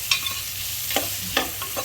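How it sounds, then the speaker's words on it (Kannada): Carrots go into a frying pan and get stirred, a few sharp scraping strokes over a soft continuous sizzle, close and clear with no voices. "ಇದು ಸ್ವಲ್ಪ ಬ್ರೌನ್ ಕಲರ್ ಬಂದಮೇಲೆ ಇದಕ್ಕೆ ಇಟ್ಕೊಂಡಿರೋವಂಥ ಕ್ಯಾರೆಟ್ನ ಹಾಕೋಬೇಕು."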